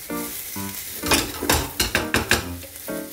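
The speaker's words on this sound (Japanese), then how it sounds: "今お米がだいぶこう熱くなってきて、要はローストして" Rice for porcini risotto toasts in a pan, with a soft sizzle as a utensil stirs and scrapes the grains in irregular strokes, close and clear, with no talking over it.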